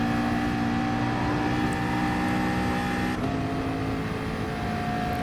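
McLaren GT3 race car engine in GT Sport, climbing a hill at Dragon Trail Seaside in fourth gear: a steady, loud, sustained engine drone holding one pitch throughout, with no talk over it.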